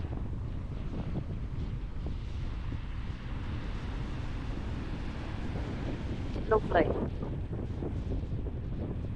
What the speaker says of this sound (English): and windy, you can probably hear it